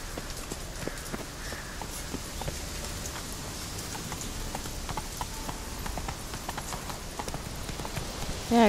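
Roach, a horse in The Witcher 3: Wild Hunt, trots with a steady run of clip-clop hoofbeats at moderate loudness over a soft outdoor ambience, ending in a short louder burst.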